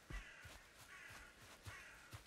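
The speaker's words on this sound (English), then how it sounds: "How can I not even see these crows?" Crows cawing in the video game Valheim, several faint, distant caws repeating at irregular intervals over a quiet ambient background.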